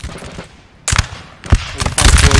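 Musket volleys ring out in a Napoleonic battle in Napoleon Total War, loud bursts of gunfire arriving in several rapid, overlapping waves at close range.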